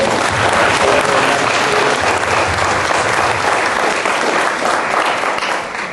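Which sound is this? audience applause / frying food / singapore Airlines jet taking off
audience applause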